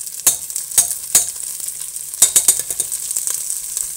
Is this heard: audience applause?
no